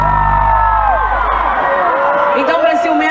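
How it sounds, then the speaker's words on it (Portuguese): A concert crowd at a show in Pacha Ofir screams and cheers loudly and continuously, with high shrieks rising over a fading low music tone. "Eu quero escutar o grito da mulher que é muito ciumenta aqui."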